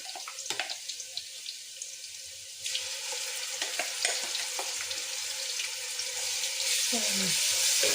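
Onions frying lightly in oil in a home kitchen pan, a steady sizzle with occasional scraping and stirring clatter, joined by running tap water near the end.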